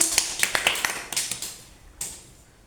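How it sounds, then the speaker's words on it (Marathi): A few children clap for a child at an anganwadi preschool after she finishes walking along the shapes, scattered uneven claps close by that thin out and stop, with one last clap near the end. "पूर्ण झालं त्याला टाळ्या"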